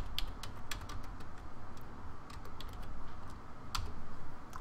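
Keys on a computer keyboard clatter in a quick, irregular run of close clicks over steady broadband room noise, with no voices.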